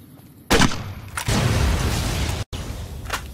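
In Fallout New Vegas, a frag grenade goes off with a sharp blast, followed by a sustained rumbling boom and a brief break before fainter game sounds resume.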